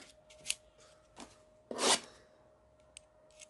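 A small knife slicing open the shrink wrap and cardboard of a Playoff football card blaster box, a few quiet scratchy cuts ending in one longer, louder slicing rasp, close up with no talking.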